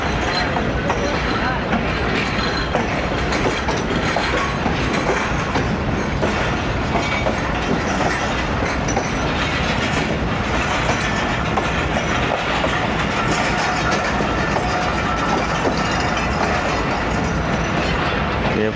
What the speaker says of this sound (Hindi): ये फरीद एक्सप्रेस का AC स्टैंडर्ड डब्बा, दोनों ही काफ़ी पुराने मॉडल वाले लगे हुए।